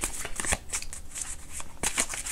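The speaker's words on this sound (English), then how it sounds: "let me pull a couple more cards because this is my favorite deck" Tarot cards being shuffled and drawn from a deck, quick papery riffles and flicks close by, with a short pause before a final burst of shuffling.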